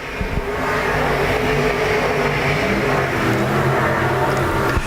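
IMCA Modified race cars roar around a speedway track during a nighttime heat race, with a loud continuous engine drone that rises and falls as the cars pass close by.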